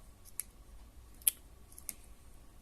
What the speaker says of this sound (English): it's right in the end of the tail, so I can cut that off